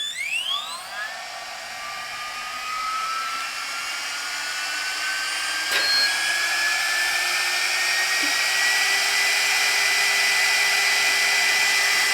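A GHD Duet 2-in-1 hot air styler runs with a steady, whining hot-air rush. Its pitch climbs gradually as the motor spins up, and there is a faint click partway through. It sounds close and even, with no talking.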